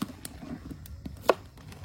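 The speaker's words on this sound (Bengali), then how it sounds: "তুমি সাবধানে পেঁয়াজ কাটো" Onions being chopped with a knife on a board, a few light irregular taps close by with one sharper knock, in a quiet kitchen at night.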